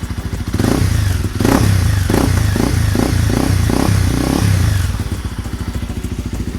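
A 2018 Honda CRF250 Rally motorcycle engine rumbles close by, then revs in a series of quick rhythmic blips before settling back to a steady idle.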